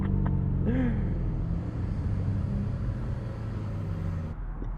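Jaguar F-Type R convertible, a 2021 model, engine and exhaust revving above 3,500 RPM, a loud steady roar with a brief rising pitch sweep early on, close and continuous until it cuts off near the end.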